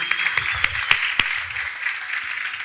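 Brief applause from a church congregation during a celebration service, with steady clapping and a few sharper individual claps standing out over nearly three seconds.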